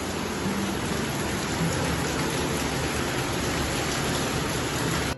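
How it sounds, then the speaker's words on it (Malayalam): Heavy rain pours down in a dense, steady hiss, loud and unbroken throughout, with no voices. "ഭയങ്കരപ്പെട്ട മഴ മഴയോടുള്ള മഴ തന്നെ പുറത്തിറങ്ങാൻ പറ്റാത്ത മഴ"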